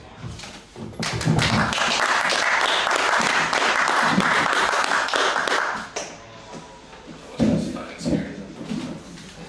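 Audience applause after a poetry slam performance, a loud sustained burst of many clapping hands with a few sharp taps, tapering near the end as a voice speaks briefly over it.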